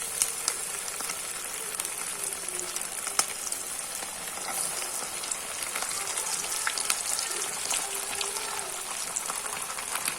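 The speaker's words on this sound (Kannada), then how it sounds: "ನಾವೀಗ ಒಂದೊಂದೇ ಫಿಶನ್ನು ಇಲ್ಲಿ ಎಣ್ಣೆಯಲ್ಲಿ ಹಾಕ್ಕೊಂಡು ಹೋಗುವ." Bangda fish coated in semolina fry steadily in hot oil, a dense continuous sizzle and crackle close up with no voices over it.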